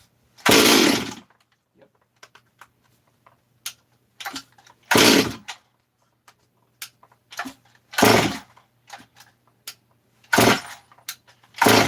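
A Stihl 440/460 hybrid chainsaw given a shot of fuel down the carburetor throat, being pull-started: five loud, short sputtering bursts about every two to three seconds with quiet ticks between, never settling into a steady run; a voice briefly speaks once.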